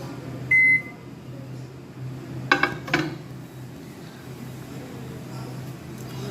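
A microwave oven heating a leftover bread roll hums steadily, with a sharp beep near the start and a pair of quick clicks and knocks as the timer is set.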